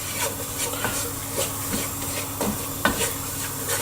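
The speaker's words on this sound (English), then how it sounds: "आप साथ साथ इसमें दूध ऐड करेंगे और साथ साथ चमचा तेज तेज चलाते जाएंगे." A spoon stirs a flour and milk sauce in a pan, scraping and swishing in quick, regular strokes close up over a light sizzle, with no voices.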